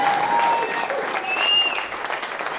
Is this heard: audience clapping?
yes